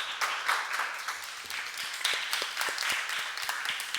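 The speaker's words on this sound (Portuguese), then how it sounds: "Obrigado pelas palmas." An audience claps after a speech at a youth council session, a fairly soft, scattered round of applause that holds steady for several seconds.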